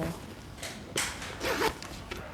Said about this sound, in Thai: แล้วก็เขาให้ช่องซิปมาให้ด้วยหนึ่งช่องอ่ะเดี๋ยวเปิดให้ดู